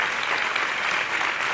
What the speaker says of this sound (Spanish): Ya sabéis que agradezco mucho los aplausos